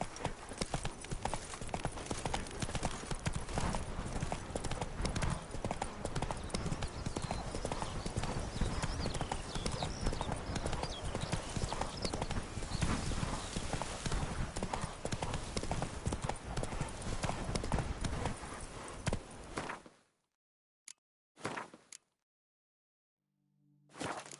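Horse hooves galloping in the video game The Witcher 3: Blood and Wine, a fast steady clip-clop rhythm running loud and close for about twenty seconds, then stopping abruptly with only brief scattered sounds after.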